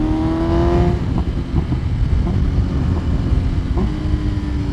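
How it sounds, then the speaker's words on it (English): A BMW S1000RR motorcycle fitted with an M Sport muffler, Aero header and mid pipe runs loud and close, its deep exhaust note rising in a rev at the start and then holding a steady rumbling idle. "with this M Sport muffler and the Aero header and mid pipe, this sounds very nice, very deep actually."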